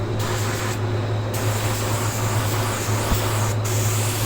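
A spray gun lays a control coat of car paint at 18 psi over a masked car body, giving a steady, close, continuous hiss that holds for the whole stretch with a low hum underneath.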